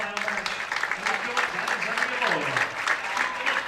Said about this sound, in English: How about a round of applause for our semifinal match?